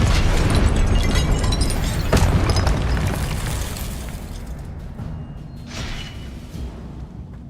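Confringo spell explosion in the Hogwarts Legacy video game: a loud, crackling blast with shattering debris that dominates at first and slowly fades into a lower rumble, no voices present.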